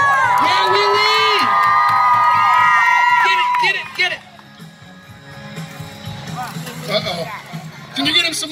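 A loud crowd at a Nitro Circus show at Butlins cheers, whoops and yells for a rider's final run, with shrill children's shouts and piercing whistles up front, then dropping to a murmuring babble before swelling again.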